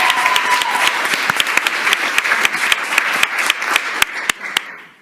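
An audience at a school committee meeting applauds, a steady, fairly loud wash of many hands clapping with sharp individual claps standing out, tapering off at the end.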